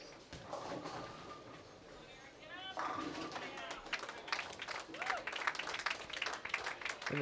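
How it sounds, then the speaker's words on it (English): Crowd cheering and applauding at a PWBA women's professional bowling tournament in Sonoma County, a loud, steady wash of claps and shouts that swells toward the end, with a commentator talking over it. "And the crowd goes wild for McCarthy"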